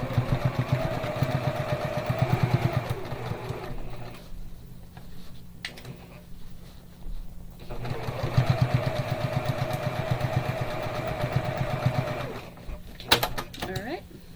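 A sewing machine back stitches on a bag, its motor whirring in two long runs separated by a brief pause, with a person talking over the stitching throughout.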